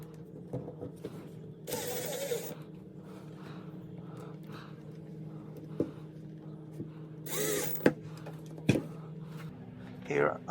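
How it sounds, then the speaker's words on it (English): A power drill drives screws into wood while building a dado jig: two short bursts of whirring drill noise, with a few sharp knocks and taps on a low hum in between. "Here I'm screwing down the left guide to the bottom piece."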